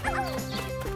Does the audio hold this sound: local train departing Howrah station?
no